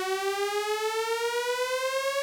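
A Nord Stage 3 Compact synth playing a rising synth patch sustains a bright, harmonically rich tone that glides slowly upward in pitch with a gentle pulsing wobble, alone and without talk.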